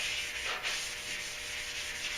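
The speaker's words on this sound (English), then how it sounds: "This is also with this sanding pad" A sanding pad works wet over primer on a Duramax truck door, a steady close rubbing hiss with slight rhythmic swells as the pad strokes back and forth.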